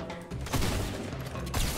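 Gunfire in the video game Fortnite, a dense, loud burst of overlapping shots filling nearly two seconds, with sharper peaks near the middle and end and no talk.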